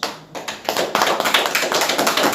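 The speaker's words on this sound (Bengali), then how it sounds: "সুন্দর করে হাততালি দেন, সুন্দর করে হাততালি দেন আপনারা" Audience at a street magic show clapping, a dense crowd applause building after a brief dip and staying steady and fairly loud throughout.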